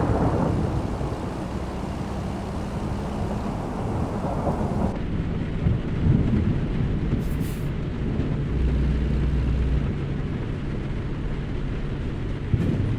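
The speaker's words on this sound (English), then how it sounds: "The Gulf Coast rainstorms." A Gulf Coast thunderstorm in Louisiana in the video game American Truck Simulator: steady heavy rain and deep rolling thunder, with a low truck engine hum beneath, continuous throughout and with no talking.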